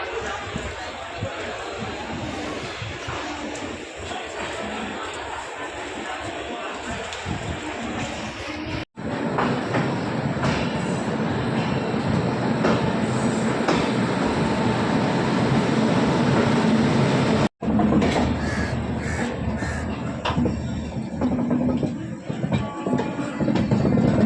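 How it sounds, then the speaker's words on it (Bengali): The 12379 Jallianwala Bagh SF Express pulling out of Sealdah station in Kolkata gives a steady, broad rumble and rattle that grows fuller as it gets under way. Voices can be heard over it. "ফাইনালি ছেড়ে দিল শিয়ালদা স্টেশন থেকে"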